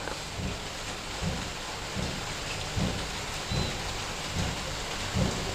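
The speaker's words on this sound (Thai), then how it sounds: "มีเสียงฝนนะครับ เสียงฝนโปรยปลาย" Steady rain pours in a dense hiss at a Thai temple, Wat Nong Hoi, with low rumbling thuds rolling through at regular intervals underneath.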